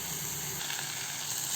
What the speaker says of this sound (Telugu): సిమ్లో పెట్టి వేగనివ్వండి.